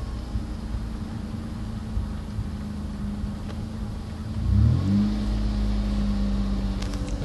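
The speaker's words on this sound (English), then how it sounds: "That's me just tapping the gas." Ford Contour engine idling steadily, then rising in pitch for a short rev as the gas is tapped and settling at a slightly higher hum, close and continuous with no speech.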